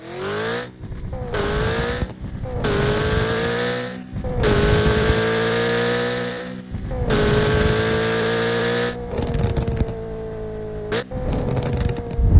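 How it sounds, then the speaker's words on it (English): A game car engine in Roblox Midnight Chasers revs up and down through a dozen seconds, each sharp drop in revs on downshift followed by pops and bangs, loud and close with rising harmonic sweeps. "Whenever you downshift, you just hear all these pops and bangs"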